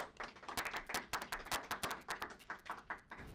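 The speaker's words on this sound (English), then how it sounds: "So let's give her a round of applause." An audience applauds a presenter from a Bay Area accounting firm, a dense run of many hands clapping steadily and briskly close by, with no talk over it.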